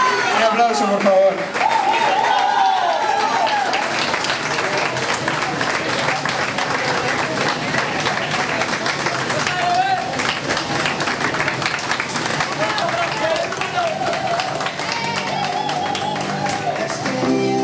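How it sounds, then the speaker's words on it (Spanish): Sustained applause and clapping from a crowd at a beer festival in the Cabanyal market, loud and continuous, with music and cheering mixed in throughout. "Un aplauso, por favor"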